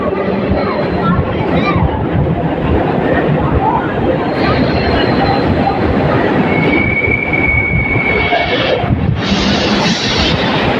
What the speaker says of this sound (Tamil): இந்த ட்ரெயின் வந்து ஆதம்பாக்கம் ரயில்வே ஸ்டேஷன் நிற்கலைங்க.